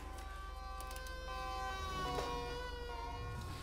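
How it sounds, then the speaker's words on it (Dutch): Police vehicle sirens in GTA 5, a steady wailing tone with layered pitches holding over a constant low engine-like hum, moderately loud and continuous throughout with no talking. "Die heeft twee sirenes"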